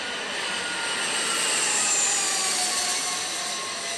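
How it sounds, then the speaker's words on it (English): A private jet in flight gives off a steady, broad roar that stays even and loud throughout, with no voices. "Vonnie hops on a private jet headed to Los Angeles."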